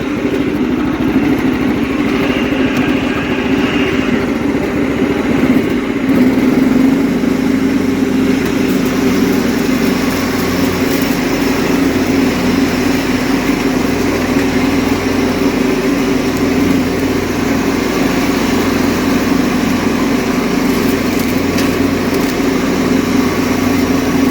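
A Kohler 12.5 HP engine on a John Deere STX38 lawn tractor, once a basket case, runs steadily and loud at close range, holding a constant rough mid-pitched drone with slight fluctuations throughout.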